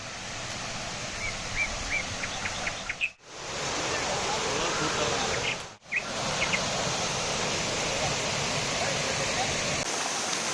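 Aagaya Gangai waterfall roars as a constant broadband rush of falling water, close and steady, briefly cut twice by short dropouts, with faint high bird chirps above it and no talking.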